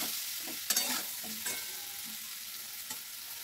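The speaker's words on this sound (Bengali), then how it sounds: "ভালো করে তেলের সাথে আর আমলকির সাথে ভালো করে এটাকে একটু মিশিয়ে নেব" Amla being mixed with oil, salt and chili powder in a pan: soft hissing oil under a few distinct spoon scrapes and taps, close but fairly quiet.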